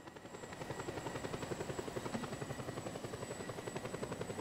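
In the video game Just Cause 2, a helicopter's rotor beats out a fast, even chop over a whining engine hum, close and constant throughout.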